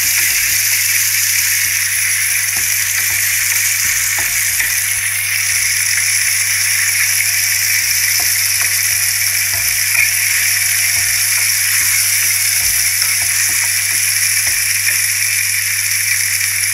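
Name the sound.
frying ginger-garlic paste in oil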